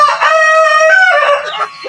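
A rooster crows loudly and close, a long strained call that breaks off, followed by brief clucking from Texas-breed hens.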